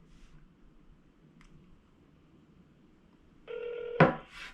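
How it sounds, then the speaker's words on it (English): Over a quiet room, a phone call placed on speakerphone rings out with a short electronic ring tone near the end, followed by a brief click and noise. "Okay, we're gonna call Bump now."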